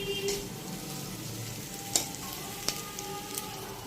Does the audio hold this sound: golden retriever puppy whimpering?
no